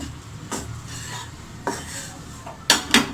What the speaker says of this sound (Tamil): நல்லா மிக்ஸ் பண்ணி விட்டுடலாம்